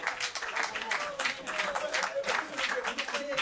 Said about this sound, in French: Vraiment, deux heures d'applaudissements pour Jalissa, vraiment.